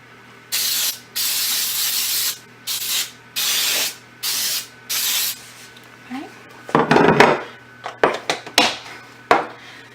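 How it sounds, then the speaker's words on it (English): Cooking spray hisses out in six short, evenly spaced bursts, close and loud, followed by scraping and clattering against a pan. "I have a little pan cooking spray."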